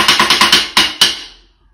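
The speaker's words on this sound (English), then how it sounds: "What you also can do is play on the rim," Drumstick clicking on the rim of a snare drum in a quick run of six even taps followed by two slightly louder hits, sharp and close, each decaying briefly before silence.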